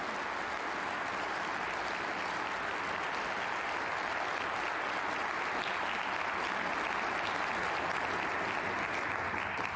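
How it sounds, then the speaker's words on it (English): A snooker audience at the German Masters applauds a finished match, a steady wash of distant clapping from a sizeable crowd that goes on for around ten seconds with no voices over it. "That applause you've just heard is for Belgium's Julien Leclerc, who's completed victory over Jordan Brown"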